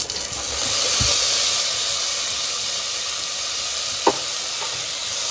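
Tomatoes dropped into a hot pan of browned onions set off a steady, bright sizzle that hisses throughout, with a couple of soft knocks from a spoon or pan.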